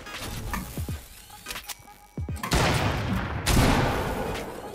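Gunfire in a multiplayer video game: a few sharp shots early on, then dense, sustained volleys of rapid fire fill the second half at moderate loudness, with no speech.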